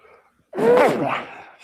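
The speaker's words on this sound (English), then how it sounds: "I'm going to sneeze." A single close, loud sneeze bursts out after a brief quiet breath, trailing off with a voiced exhale.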